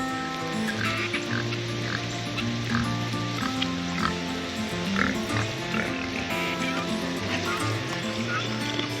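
Several large farm pigs grunting and oinking close by, overlapping low calls repeating irregularly throughout against a busy background with some human voice.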